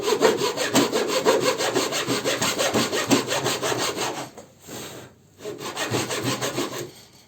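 A hand saw cuts fret slots into a guitar fretboard in quick rhythmic back-and-forth strokes, close and clear, pausing briefly before a final burst of strokes.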